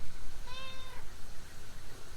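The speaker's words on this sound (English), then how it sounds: "She used to be a really good lap cat." A house cat meows once, a clear mid-pitched call lasting about half a second near the start, heard close up in a quiet room with faint background noise and no talking.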